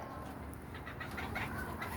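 A rooster clucks in faint, soft bursts close to the camera against a steady wash of outdoor noise.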